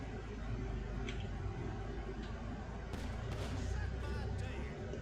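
Gunfire in the GTA video game at the Mount Chiliad military base, a few sharp distant bangs and bursts cutting through a dense, rumbling game soundscape, with a voice talking over it.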